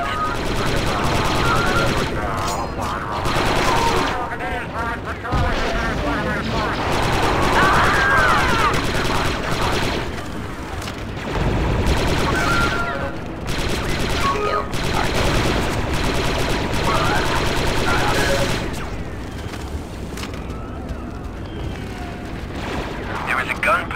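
Blaster gunfire in Star Wars: Republic Commando, with dense rapid bursts and booming blasts that run almost without pause and stay loud throughout, alongside radio-style voices talking over the combat.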